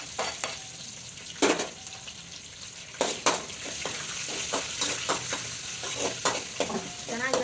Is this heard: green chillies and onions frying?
yes